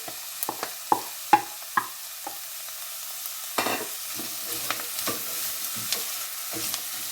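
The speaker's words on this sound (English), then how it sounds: "this has been cooking for a few minutes, sizzling away, it's softened up" Softened vegetables for minestrone soup sizzling in a frying pan, with a soft steady fry under sharp clacks and scrapes of a utensil stirring, close by.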